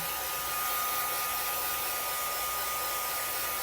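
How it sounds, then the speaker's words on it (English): A craft heat tool on its low setting blows over alcohol ink on Yupo paper, giving a continuous steady whooshing hum with no pauses. "now I'm going to take the heat tool on a low setting and try to dry that a little bit"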